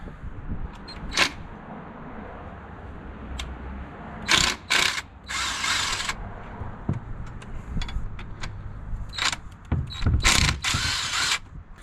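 A ratchet works loose the brake caliper bracket bolts on a 4th-generation Ram 1500, bursts of clicking with a few sharp metallic knocks against shop background noise, close and moderately loud.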